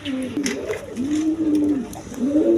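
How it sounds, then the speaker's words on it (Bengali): Pigeons in a breeder's coop cooing, low rolling throaty calls repeating in a steady rhythm close by, with faint rustling around them. "দেখেন একদম কোয়ালিটি সম্পন্ন কবুতর"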